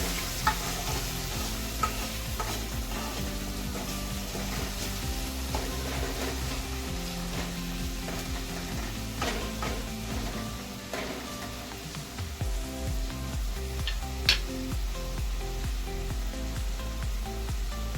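Onion tomato paste with salt and turmeric stirred in a pan over low heat, a constant frying hiss with scattered soft scrapes and clinks of the spoon, close, without speech.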